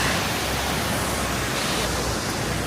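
Wulai Waterfalls in Taiwan pour down in a dense, constant roar of rushing water that fills the whole moment evenly without a break.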